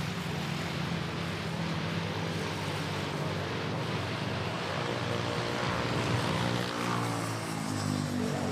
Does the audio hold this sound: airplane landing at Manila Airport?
yes